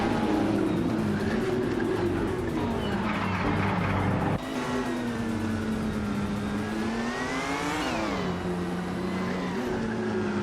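2012 Aston Martin Vantage GTE race car on a racing track, a loud, continuous engine whine rising and falling through gear changes, with a sudden shift partway through and another climbing rev near the end.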